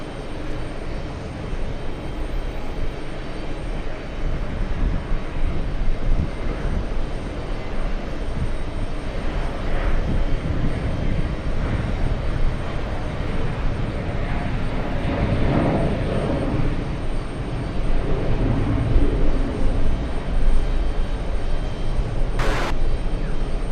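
Virgin Atlantic jet airliner flying in to JFK from Heathrow, a steady, broad engine roar that swells gradually over more than twenty seconds, heard alone from a spotting vantage point.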